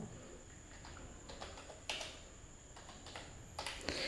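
Typing on a computer keyboard while entering figures into an options trading platform: irregular clusters of crisp key clicks, close and moderately loud, with a few sharper strokes standing out.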